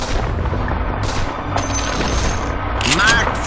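Shrapnel ability firing in Dota 2: a rattle of rapid bursts and booms in a busy game mix, with a player shouting over the action.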